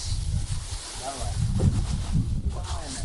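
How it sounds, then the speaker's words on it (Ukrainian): Wind gusts roar and buffet the microphone in a low, rumbling rush while fishing for bighead carp, with people talking and exclaiming over it. "Ох, який вітер задув."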